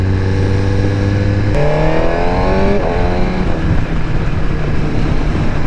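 A BMW S1000RR sport motorcycle accelerates hard and loud, its engine note climbing through gears as a quick shifter clicks through upshifts, with no pause between them, under steady wind rush.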